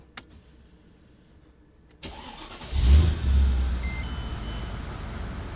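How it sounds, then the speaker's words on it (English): A Mercedes E55 AMG W211 engine cranks and fires up after a quiet moment, roaring loudly at first, then settling into a steady, rumbling idle nearby. "Now we're going to verify the car still fires up."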